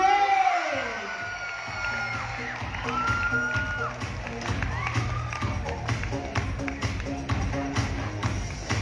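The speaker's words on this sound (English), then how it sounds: "let us give him a big round of applause" Audience at the Man of the World 2022 pageant final night cheering and clapping for Ukraine's contestant, a sustained wash of claps and whoops at moderate distance, with music and a host's voice mixed in.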